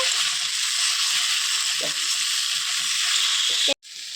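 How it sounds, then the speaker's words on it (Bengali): Young goat mutton pieces frying in a pan, a loud constant sizzle and hiss with light stirring scrapes, briefly cut off near the end before resuming. "এবার আমি এতে কচি পাঠার মাংসগুলোকে দিয়ে দেবো এবার এটাকে আমি ভালোভাবে কিছুক্ষণ ধরে কষিয়ে নেব"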